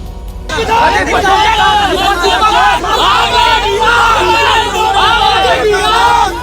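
An angry crowd shouting slogans around a BJP legislator during violent unrest in Dhule, Maharashtra: dense, loud outdoor crowd noise with many overlapping raised voices that rise and fall in waves throughout.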